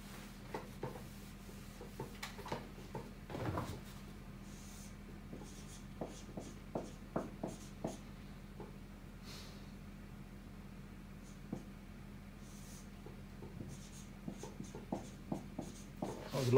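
Pen scratching out a line of fraction working for an integration problem, with short scattered strokes and pauses, faint and close in an otherwise quiet room.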